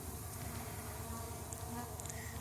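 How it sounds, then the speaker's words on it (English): A dense, steady buzz of many honeybees flying around hives on a sunny late-August day, continuous and fairly soft, with no voices. "The bees are in the air today"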